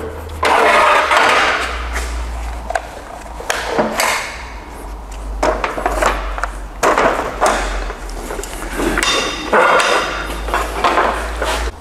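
A Milwaukee cordless circular saw cuts through material in several loud, close bursts of harsh whining and rasping, each separated by brief pauses, with no talk over the cutting.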